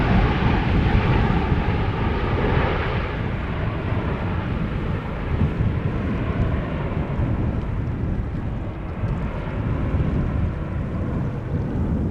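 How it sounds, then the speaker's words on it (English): An Embraer jet arriving at Schiphol Airport from Billund gives a steady, broad roar that holds for the whole stretch, fairly loud and even, with wind buffeting the microphone and no talk. "Embraer arriving from Billund, going to runway center,"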